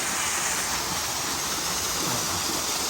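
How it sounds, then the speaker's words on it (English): A 33-foot waterfall at a grotto-style wedding venue roars in a dense, continuous rush of falling water, loud and unbroken throughout. "our major attraction, I guess, would be our 33-foot waterfall, as you can see up here"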